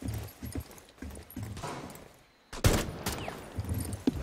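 Rainbow Six Siege gunfire comes in a few sharp cracks and short bursts, some quiet and distant at first, then a louder, closer volley after a brief hush.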